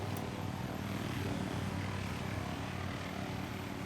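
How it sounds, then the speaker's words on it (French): A steady, loud whirring helicopter rotor drone in Minecraft holds level throughout, a continuous engine roar with no talking. "C'est l'hélicoptère de l'autre là."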